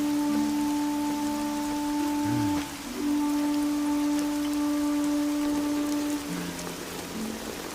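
Heavy rain falling in a steady wash under sustained musical tones, the downpour continuous from start to finish.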